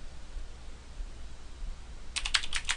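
Quick keystrokes on a computer keyboard type out a folder name in a short burst of close, crisp clicks after a near-silent pause.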